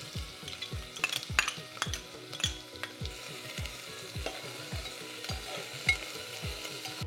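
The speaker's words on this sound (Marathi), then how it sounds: "फोडणीत हे असे 2 ठेचलेले लसूण, मिरे, अख्खे मिरे जे 2-4 होते ते आणि 2 तमालपत्रीची पानं, बारीक चिरलेले 2 कांदे टाकतोय." Crushed garlic, whole peppercorns, bay leaves and chopped onions frying in an oil tempering for methi khichadi, with a soft sizzle under rhythmic scraping strokes of a spoon stirring in the pan, close and fairly quiet.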